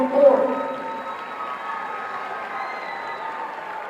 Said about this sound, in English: Let's give one more round of applause for your 2024 basketball homecoming court.